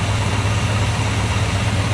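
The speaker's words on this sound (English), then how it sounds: "You hear the motor running. It runs nice and smooth." A 1966 Ford F100 engine idles smoothly and close by, a steady low rumble with an even hum and no breaks or talk.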